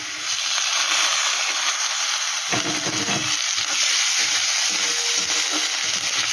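Ginger garlic paste frying with browned onions in a pan, a loud, steady close hiss of sizzling throughout, broken by a few duller stirring scrapes partway through.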